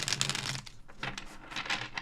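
Tarot cards shuffled by hand, a steady papery riffling and crinkling that runs continuously at close range, with short quieter gaps between bursts and no talking.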